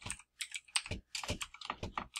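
Computer keyboard being typed on at a desk, short bursts of soft clicking keystrokes with brief gaps, close and quiet with no voices.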